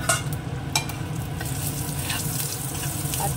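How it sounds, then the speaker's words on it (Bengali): Radhuni seeds and dried red chillies sizzle and crackle steadily in hot oil in a wok, a close, continuous frying hiss with a few sharp pops and no talking. "এবার কড়াইতে আবার তেল দিচ্ছি একটুখানি রাঁধুনি আর শুকনো লঙ্কা।"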